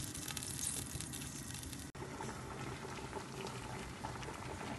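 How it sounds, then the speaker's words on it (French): Couscous sauce simmers in a pot with a faint, continuous bubbling hiss that stays even throughout, broken only by one very brief dip. "Et je laisse mijoter un quart d'heure."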